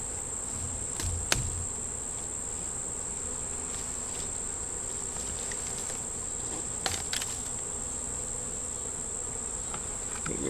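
Bees buzz steadily at an open beehive during feeder removal, a continuous close insect drone with a few brief knocks and taps, no voices.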